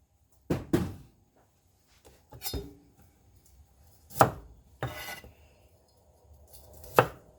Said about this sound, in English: So I'm just going to cut these into little pieces.